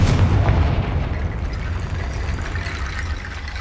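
A blasting spell in Hogwarts Legacy detonates with a heavy, rumbling boom that starts loud and rolls on as a long, low, fading roar.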